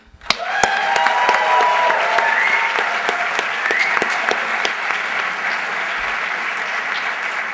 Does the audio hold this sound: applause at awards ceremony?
yes